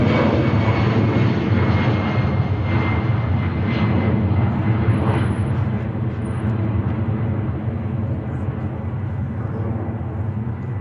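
A departing airliner roars steadily at Manchester Airport, a loud, continuous broadband engine rumble that holds strong and fades only slightly over several seconds, with no talk over it.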